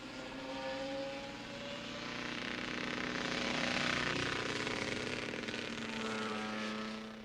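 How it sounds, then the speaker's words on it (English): A loud, rough racing motorcycle engine drone holds steady, swelling and fading slightly as it passes, its tone uneven and strained from the engine running badly, at a 1977 race at Oulton Park. "And just listen to this very sick motorcycle."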